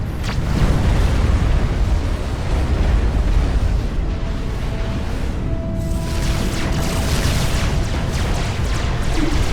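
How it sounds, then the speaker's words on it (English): Nuclear missile strikes in Supreme Commander: Forged Alliance roll out as a continuous, dense, rumbling explosion roar that stays loud and sustained for the full stretch, with no talking. "Looks like the two lovebirds are nuking each other."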